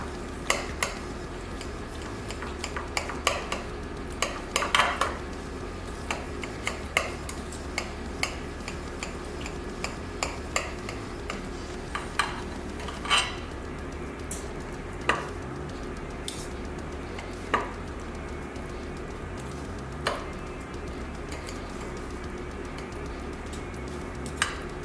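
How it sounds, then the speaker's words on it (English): Cutlery cutting into a baked veggie lasagna with cremini mushrooms, heard as sparse metallic clicks and scrapes against the dish over a quiet background, with irregular gaps between strokes. "we're going to cut into the veggie lasagna"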